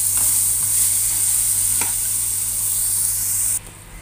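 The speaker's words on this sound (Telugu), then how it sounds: "వేసిన తర్వాత ఈ గ్రేవీలో ఈ అరటికాయ ముక్కల్ని మొత్తం ఇలా కలుపుకొని" Raw banana pieces are stirred into a sizzling curry gravy, giving a constant frying hiss with soft scraping strokes that drops away abruptly near the end.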